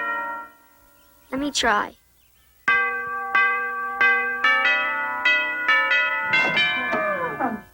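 A doorbell fitted on a refrigerator rings as a sequence of bright bell-like chime strikes with ringing decay, after a brief spoken line and voices overlapping the final tones.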